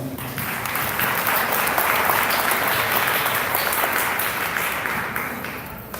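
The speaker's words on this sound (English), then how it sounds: "Round of applause, please." An audience at a hackathon pitch event in Tokyo claps warmly for the next presenting team, loud continuous applause swelling in the first second and holding steady before easing off at the end.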